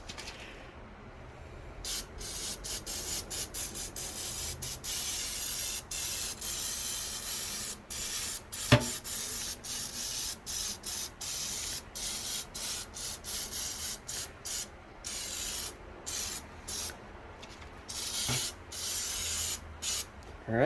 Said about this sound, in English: let's just spray around the outer edge